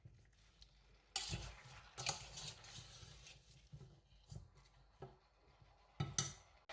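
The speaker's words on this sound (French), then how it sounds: "Je mélange pour que toutes mes épices partent bien de partout." Chicken and spices are stirred in a heating pan, giving faint, close scrapes and clinks of a utensil against the pan in irregular strokes, with no talking.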